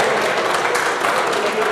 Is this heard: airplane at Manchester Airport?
no